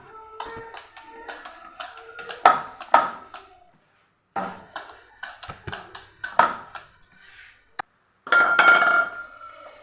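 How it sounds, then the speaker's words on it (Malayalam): Sharp taps and knocks of a bottle lid pressing through rolled-out rice dough on a board to cut small rounds for pani puri, some in quick pairs with brief pauses between. A voice talks intermittently underneath. "ഇതേപോലെ ഒരു കുപ്പിയുടെ മൂടി വെച്ച് നമുക്കൊന്ന് വെട്ടിയെടുക്കാം"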